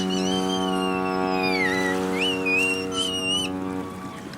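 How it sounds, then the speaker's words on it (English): A boat horn sounds in a long, steady tonal blast at a beach, with a whistle-like tone gliding over it before it fades out. "The boat honks its horn again."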